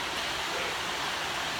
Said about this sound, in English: We just wanted to show you the waterfall we found.